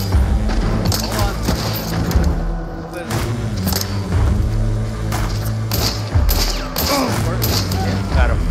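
Shotgun blasts in the video game Hunt: Showdown, a rapid series of loud, booming shots with thuds and mechanical clatter, mixed with excited voices talking over the gunfire.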